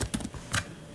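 Fingers typing on a computer keyboard while entering an email address into a workflow form, a quick close run of light key clicks in small uneven bursts with a sharper final tap.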